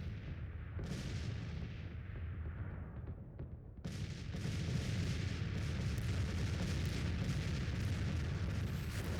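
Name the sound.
artillery fire in the video game Grand Tactician: The Civil War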